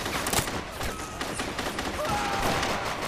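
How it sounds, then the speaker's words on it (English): Infantry gunfire in the video game Men of War: Assault Squad during a Market Garden battle, a continuous crackling fusillade of rifle and machine-gun shots with scattered thumps, dense and fairly loud throughout. "So now my infantry are firing all around the place."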